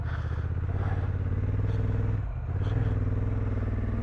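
A 2024 Honda Africa Twin motorcycle engine drones steadily while the bike climbs uphill, a loud, close, pulsing rumble with a brief dip in the middle, then back to full throttle.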